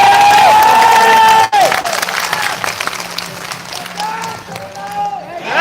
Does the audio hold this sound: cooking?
no